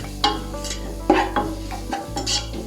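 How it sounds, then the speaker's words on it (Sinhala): Chili flakes being stirred into hot frying oil in a pan, giving a steady low sizzle broken by several scraping stir strokes, close and moderately loud, with no talking. "ඊට පස්සේ කැලි මිරිස් දාගෙන මේක හොඳට මික්ස් කරගන්නවා තෙලේ බෙදෙන්න."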